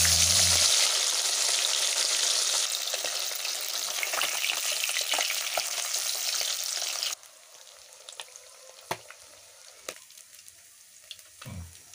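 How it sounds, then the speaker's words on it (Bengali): Bhola fish pieces sizzle in hot refined oil, a loud crackling fry that drops abruptly to a quieter simmering pop with occasional sharp spatters, no talk. "তেলটা দিয়ে খুব ভালোভাবে গরম করে মাছগুলো ভেজে নেব"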